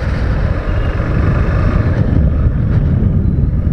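Honda NS 160 motorcycle with an air-cooled engine being ridden, a steady loud engine drone with road and wind rumble running throughout, close and continuous with no talk.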